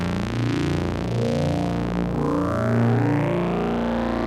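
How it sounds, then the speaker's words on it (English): Sustained synthesizer tone run through a Moog Moogerfooger phaser, a thick, slowly sweeping hum with shifting harmonic bands, steady and fairly loud throughout with no voices. "it's kind of more interesting, more thick and more emphasized when it goes through the phaser"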